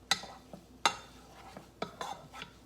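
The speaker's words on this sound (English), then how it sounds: "Take your stir and stir that in just a little bit." Tomato paste is stirred into a cooking pot, with a spoon clinking against the metal several times in an uneven rhythm. The scrapes are quiet and close, with faint background noise and no talk.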